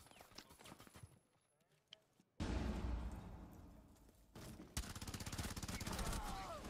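Rapid gunfire bursts in Rainbow Six Siege, a quiet stretch broken by a sudden loud volley that fades and then returns as fast repeated shots, close and sharp.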